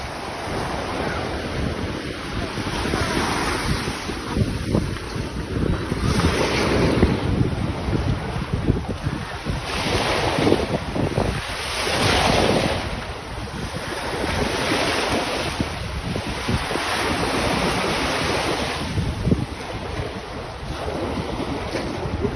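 Sea waves at a beach rolling in with surging, rhythmic washes of surf, heavily buffeted by wind noise across the microphone, loud and continuous with no speech.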